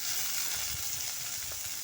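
Chopped onions and green chillies sizzle and fry steadily in hot oil in a pan, a continuous close crackling hiss with faint stirring, no voices, for a tomato thokku.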